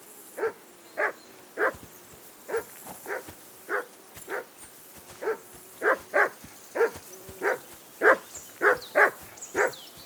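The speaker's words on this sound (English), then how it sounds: "Call that dog to heel!" A dog barks in the video game Kingdom Come: Deliverance II, a rapid series of about twenty sharp, close barks in uneven bursts over ten seconds, with no speech.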